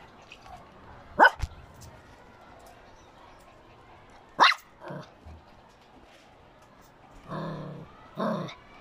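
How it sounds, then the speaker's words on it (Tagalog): A dog barks a few scattered times, sharp and fairly close, with short pauses and a couple of softer yelps later on. "ito yung maingay na aso"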